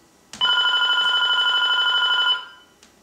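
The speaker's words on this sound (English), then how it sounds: "the phone rings" A telephone bell rings in one sustained, steady trill lasting about two seconds, loud and close, cutting off sharply into quiet room tone with a faint tap afterward.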